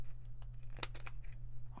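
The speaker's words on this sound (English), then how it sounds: "oh man, these scissors are really dull." Dull scissors cut through paper card stock in a few short, uneven snips over a steady low hum, with no talking.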